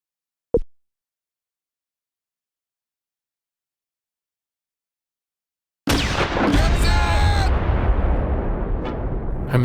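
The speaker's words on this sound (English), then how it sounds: "German mortar fire targets 2nd Platoon headquarters." German mortar fire in the video game Close Combat 4 gives a single short thud, a long silence, then a sudden loud barrage of booming blasts with whistling tones that keeps roaring until the end.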